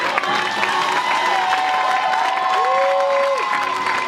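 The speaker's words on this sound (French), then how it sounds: "Tu acclames comme un jaloux." Congregation cheering and applauding during a French-speaking church service, a dense continuous wash of clapping and shouts, with a sustained high vocal note rising and falling over the crowd noise.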